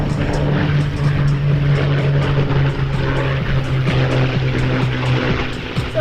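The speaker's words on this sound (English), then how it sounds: "our P-51s are coming." P-51 Mustang propeller fighters flying past at an airshow, a steady loud engine drone with a strong low tone holding across the whole pass under crowd and wind noise.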